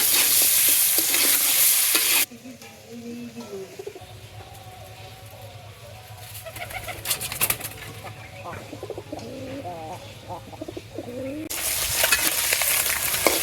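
Koi fish frying in a pan in a village kitchen: loud sizzling hiss at the start and end, with quieter spattering and scraping in between, while pigeons coo softly in the background.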